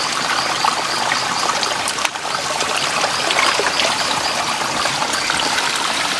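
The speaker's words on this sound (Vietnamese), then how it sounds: "Cái khe suối này nó chảy từ tít chân đỉnh đồi cao xuống rất là dài" A forest stream runs a long way downhill from the foot of a high hilltop. It gives a steady, close, broadband rush of flowing water that goes on without a break the whole time.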